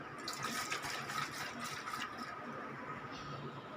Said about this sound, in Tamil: மிக்சி ஜார் கழுவி ஊற்றிட்டேங்க